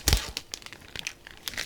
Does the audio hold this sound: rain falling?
no